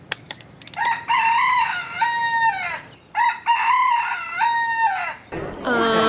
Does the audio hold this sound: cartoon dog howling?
no